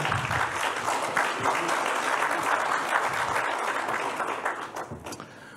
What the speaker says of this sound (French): Applaudissements pour Barthélemy Boganda.